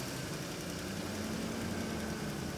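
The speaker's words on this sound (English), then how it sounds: "now it's idling way better, which means our mass airflow sensor is where the problem's at" A Ford F-150 engine idles with its mass airflow sensor unplugged, a steady low hum with faint periodic pulsing, heard close and alone without talk.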